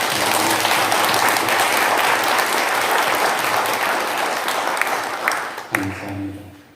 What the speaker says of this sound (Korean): 우리가 부활하신 주님께 우리 감사의 박수 한번 드립시다.